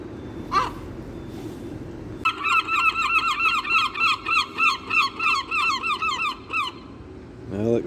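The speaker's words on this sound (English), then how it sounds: "Well, excuse the noise of the seagulls." Seagulls calling in Bristol near a bus stop: a couple of brief cries, then a long run of rhythmic, repeated squealing calls close by, ending with another cry; street background underneath.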